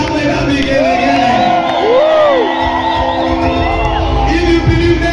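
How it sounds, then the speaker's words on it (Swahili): A church crowd cheers, whoops and ululates loudly, with long warbling trills rising and falling over a dense shouting mass of voices close by. "Kama umebarikiwa ongeza shangwe na vigelegele."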